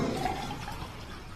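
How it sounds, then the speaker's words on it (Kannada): Water pours into a glass of liquor in a brief, continuous rushing gush, close and fairly loud, with no talking. "ಆಮೇಲೆ ಡ್ರಿಂಕ್ಸ್ಗೆ ಹಾಕ್ತೇನೆ ನೀರು"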